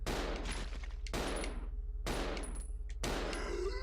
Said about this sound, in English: 8 shots to put one of them down